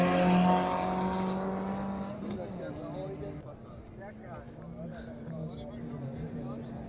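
Rally jeep roaring past at the Cholistan desert jeep rally near Derawar, Pakistan, a loud engine whine that peaks early and fades into a distant drone, with someone talking over it throughout.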